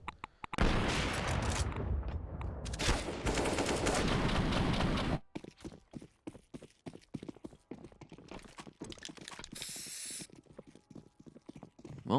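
Pistol fire from Glocks and Desert Eagles in a CS:GO match on the Train map: a dense, loud barrage of shots for about five seconds, then sparser, sharp single cracks scattered through the rest.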